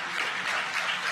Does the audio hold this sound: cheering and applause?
yes